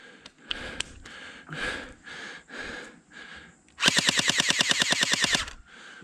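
A rapid burst of roughly a dozen sharp, loud shots from an M4A1-style paintball marker, evenly spaced in quick succession, follows several seconds of quieter breathing and shuffling.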